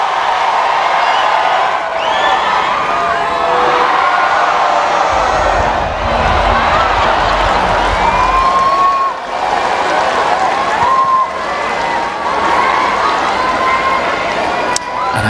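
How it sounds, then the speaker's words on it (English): A tennis crowd cheers and applauds in a steady, loud roar that fills the whole stretch, with a commentator talking over it. "Look at the delight of the crowd."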